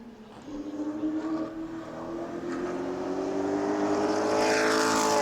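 A pro late model race car takes the green flag on the New Smyrna asphalt oval, its engine note climbing in pitch and growing louder as it accelerates toward the listener.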